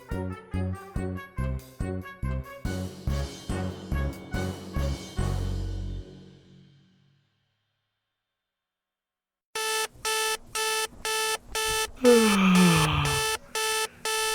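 An alarm clock rings in the morning in a hotel room at Disneyland Paris, with repeated electronic ring bursts in a steady rhythm for about six seconds. A pause of silence follows, then another series of rapid pulsed rings, loud and close.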